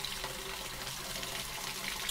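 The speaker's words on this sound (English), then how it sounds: "let's fill it up with the hot water" Hot water running from a tap into the clean-water tank of a Bissell CrossWave Cordless Max, a steady close hiss and gush of filling liquid with no talk.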